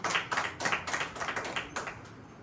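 A church congregation claps hands in praise, a run of about eight quick, fairly even claps at moderate distance that fade out at the end, with no talking over them.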